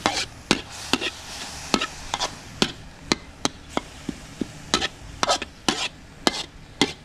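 Thai curry paste dry-roasted in a pan with a splash of water, a utensil scraping and knocking against the metal in a steady irregular rhythm of sharp taps over a faint sizzle, close and fairly loud.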